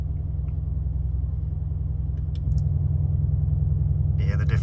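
A Mercedes-AMG C63S Coupe idles steadily after being switched into sport mode, its deep rumbling note stepping up louder partway through and holding a throaty, burbling drone, with a short voice near the end.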